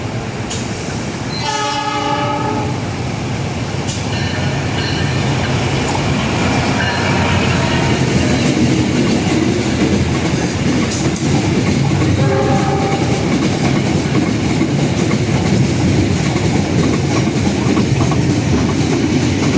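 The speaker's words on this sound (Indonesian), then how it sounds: "akan segera melintas langsung kereta api barang tanker Pertamina" A Pertamina freight tanker train rumbles past a station continuously with rhythmic wheel clatter, and a loud horn sounds near the start and again later, over steady rail noise.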